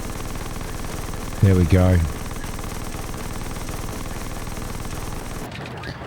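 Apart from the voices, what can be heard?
interceptor cannons firing at a UFO, from the video game Xenonauts 2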